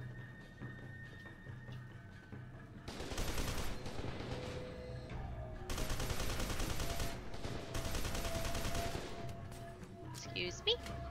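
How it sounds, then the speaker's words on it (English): Rapid gunfire fills a firefight in the first-person shooter F.E.A.R. 2: Project Origin, arriving in several loud, dense bursts of automatic shots that come in waves over a continuous game backdrop. "Who the fuck is shooting me?"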